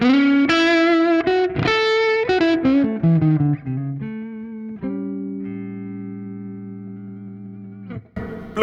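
A Les Paul electric guitar played through effects rings out a quick run of bright picked notes, then settles into a long sustained chord that slowly fades before a final short strum.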